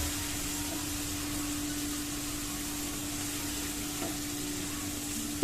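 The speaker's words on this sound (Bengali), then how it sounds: "এরপর মশলাটাকে কিছুক্ষণ কষিয়ে নিব। এটা যখন তেলটা উপরে সেপারেট হয়ে আসবে তারপর দিয়ে দিব মাছগুলো।" Spice paste of turmeric, coriander and chilli powder frying in oil for a hilsa fish curry, a steady soft sizzle with a constant hum beneath it throughout.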